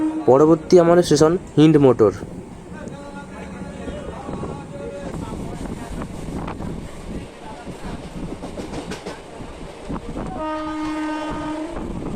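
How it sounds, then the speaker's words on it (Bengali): Local train pulling out of Uttarpara station on the Howrah–Tarakeswar line, with a loud horn blast at the start, then steady rolling carriage noise and rattling under passengers' talk, and another sustained horn near the end. "আমাদের ট্রেন ছেড়ে বেরিয়ে যাচ্ছে উত্তরপাড়া স্টেশন"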